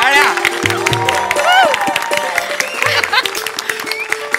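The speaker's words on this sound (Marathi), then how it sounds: "जोरदार टाळ्या" A studio audience at the Maharashtrachi Hasyajatra comedy show applauds and cheers as guest Samir Choughule arrives on stage. The loud, lively clapping mixes with whoops, voices and tonal sounds throughout.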